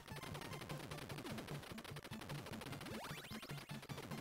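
Rapid gunfire bursts from the Contra video game, a dense run of retro shots with falling-pitch zaps, played loud and continuously over a chiptune background.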